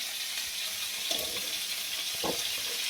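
Pointed gourd and fish frying in a hot pan in a home kitchen give a continuous hissing sizzle, with a few soft stirring scrapes and knocks rising briefly above it.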